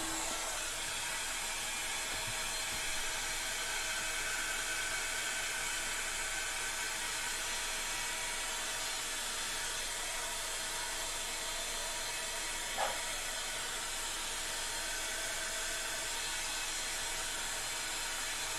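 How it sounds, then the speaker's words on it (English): A hair dryer blows steadily on a craft project, a continuous broadband whooshing hiss at constant level throughout, close and unbroken, with one faint brief click partway through. "And then we're gonna blow dry this."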